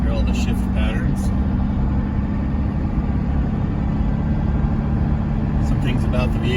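A 1996 Chevrolet K2500 Suburban with a Cummins 12-valve diesel on a test drive, a steady low rumble and road noise from inside the cab, continuous and even throughout.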